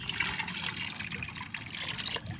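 Homemade organic fertilizer being stirred into ten litres of plain water, giving a steady continuous trickling, sloshing liquid sound at moderate level with no talk.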